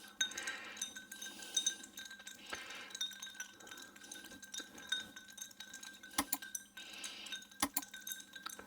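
Ice clinks and rattles against two whisky glasses as they are stirred, giving bright, close tinkling strokes in an irregular rhythm, soft overall and with no talk.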